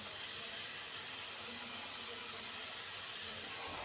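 Mustard seeds sizzle in hot oil while garlic spinach is being cooked, a steady close broadband hiss that runs unbroken throughout with no voices.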